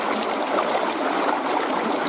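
Water swirls and trickles steadily through a gold pan as it is worked in a stream, a continuous close rushing wash with no pauses.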